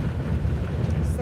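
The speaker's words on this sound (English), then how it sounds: "It is so windy." Strong wind buffeting a vehicle on the road, a steady low roaring rumble filling the whole stretch without letup.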